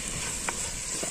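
Tomatoes being stirred and fried in a pan for a Turkish türlü vegetable stew, a soft steady sizzle with a couple of faint scraping stirs, close by and with no talking.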